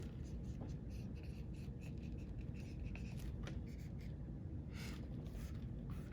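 A dry erase marker squeaks and scratches across a whiteboard in short strokes, faint and close, over a steady low background hum.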